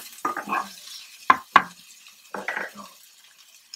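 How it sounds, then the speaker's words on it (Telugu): Green chillies and chopped onion tumble into a hot pan on a home stove, giving a few short clattering, sizzling bursts as they land and get stirred, close and fairly loud with gaps of quiet between. "సో ఇవి వేసేసాక ఇప్పుడు నేను మిర్చి ఆనియన్ రెండు వేసేస్తున్నాను"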